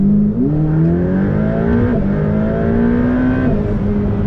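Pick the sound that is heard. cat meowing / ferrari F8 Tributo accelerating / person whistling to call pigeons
ferrari F8 Tributo accelerating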